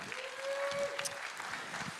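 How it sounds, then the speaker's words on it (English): Audience at an Evangel AGM clapping for Mark Faubert and Trevor Tremblay, a quiet, fairly distant spread of hand claps lasting about two seconds, with a faint sustained tone early on. "So can we give them a clap this morning?"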